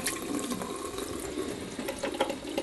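Tap water runs steadily into a sink for warm hand and forearm washing, a continuous close splashing hiss with small uneven surges, and no one speaks.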